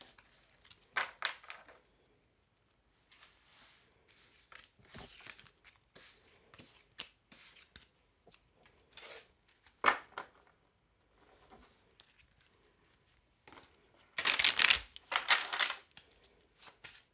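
An oracle deck of mirror cards is shuffled up close, giving scattered soft papery rustles and taps with short pauses and a louder riffling burst near the end. No voices are heard.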